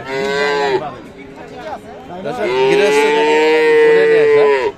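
A Friesian cow at a cattle market in Aftabganj, Dinajpur, gives loud, close, drawn-out moos, one long call followed by another, with faint crowd chatter in the background.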